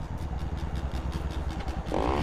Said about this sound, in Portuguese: Ainda bem que não bateu a moto